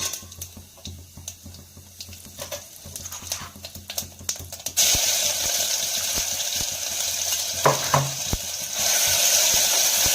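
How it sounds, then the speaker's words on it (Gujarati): Cumin, asafoetida and garlic-chili paste sauté in hot oil in a kadhai for a gram-flour kadhi, first with scattered clicks and taps, then a loud steady sizzle that fills the rest, broken by a few knocks of a spoon. "હવે કઢાઈમાં તેલ ગરમ કરીશું, તેમાં જીરું, હિંગ અને લસણ મરચાંની પેસ્ટ ઉમેરી સાતળી લઈશું"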